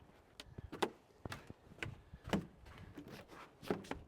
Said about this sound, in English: Oh, this door's frozen sometimes.